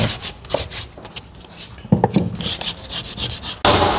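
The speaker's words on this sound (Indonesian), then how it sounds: "Pengamplasan dengan amplas yang halus, kurang lebih 2000 ya Pak ya." Fine 2000-grit sandpaper wet-sanding a surface with water before coating, a steady series of close, loud rhythmic rubbing strokes, each a short gritty swish, continuing alone without talk.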